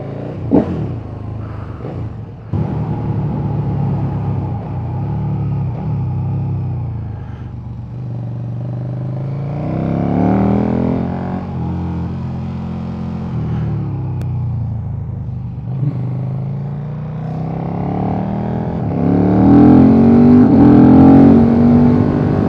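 A KTM 1290 Super Duke motorcycle engine rumbles while being ridden, with a deep throbbing note that swells and eases as the throttle changes, loud and close and mixed with road and wind noise.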